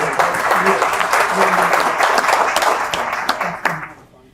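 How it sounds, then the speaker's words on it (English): An audience at a lunch event gives a round of applause, with loud, close clapping and a few sharp individual claps standing out before it tapers into quiet, with voices faintly mixed in. "Let's give her a round of applause."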